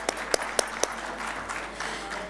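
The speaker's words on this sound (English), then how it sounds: "Can we have a huge round of applause for her?" An audience at a business forum applauds a speaker: a few sharp, distinct claps ring out first, then blur into a softer, steady patter of clapping that fills the rest of the short stretch.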